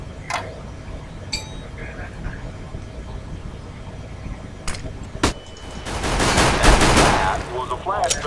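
Pistol shots fired at targets in Counter-Strike: Global Offensive training course, a few sharp isolated cracks followed by a dense burst of rapid gunfire with metallic clinks.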